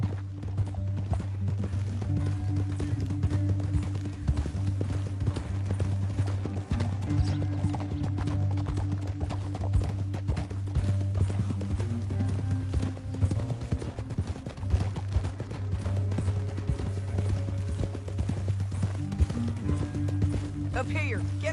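Horse hooves clip-clop steadily through a Red Dead Redemption 2 canyon ride, a continuous rhythmic run under a low rumbling backdrop, with occasional whinnies and a voice speaking over it.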